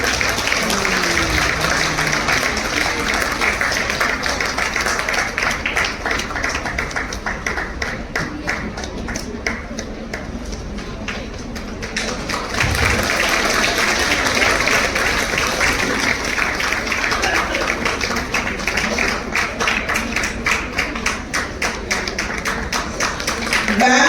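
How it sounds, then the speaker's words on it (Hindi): Sustained applause from an audience at a women's wing ceremony in Nagpur, with dense steady clapping and tapping that carries on for the whole stretch at a fairly loud, even level, dipping slightly midway and then continuing. "जोरदार तालियां होती रहनी चाहिए।"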